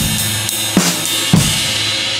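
A drum groove ridden on a ride cymbal, producing a continuous washy shimmer that sustains between beats, with a couple of heavier kick or snare hits underneath; no speech.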